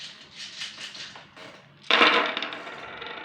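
Small cubes are shuffled out of view, a run of soft rattling clicks followed by a sudden louder clatter that lingers and fades.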